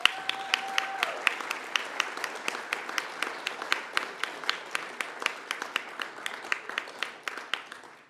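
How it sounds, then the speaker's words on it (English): An audience gives a round of applause for winners at the Education Week Awards 2022. Individual hand claps stand out in a loose rhythm over a softer bed of clapping, fading slightly toward the end. "A round of applause for our winners."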